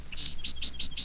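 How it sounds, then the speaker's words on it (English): A song sparrow sings a quick run of five bright, high chirping notes in an even rhythm, close and clear against a quiet background, with no other sounds. "the modest little song sparrow"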